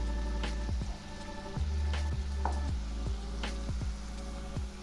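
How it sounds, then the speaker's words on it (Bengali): Onion paste being sautéed in a pan for a carrot kabab curry, a steady low sizzle with periodic scraping and ticking of a spatula against the pan, close and even throughout. "এই পেঁয়াজ বাটাগুলো খুব ভালো করে কষিয়ে নেব"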